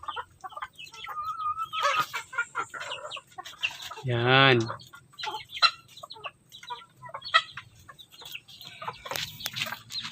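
A laying hen clucks and squawks after laying an egg, with a loud drawn-out cackle in the middle among scattered clucks and other chickens, and someone speaks briefly nearby.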